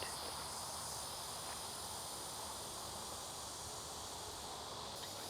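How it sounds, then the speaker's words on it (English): Insects chirp outdoors in the evening air, a steady, faint, high-pitched trill that continues evenly without pause and with no voices. "the bugs are out and biting, creeping and crawling around"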